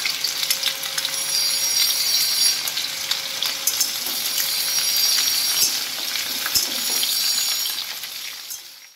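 Mixed vegetables such as stalks, pointed gourd and ridge gourd sizzle steadily in hot oil in a pan while being stirred, with occasional clinks and scrapes of the utensil, close and fairly loud, with no speech.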